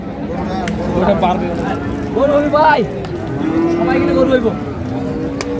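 A Sahiwal bull moos several times, long low calls up close, while people talk and a cattle market crowd murmurs in the background.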